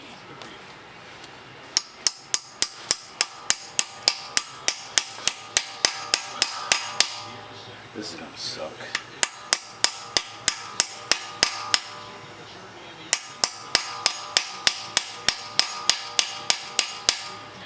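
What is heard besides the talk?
hammer striking metal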